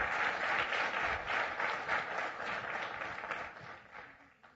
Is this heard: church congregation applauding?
yes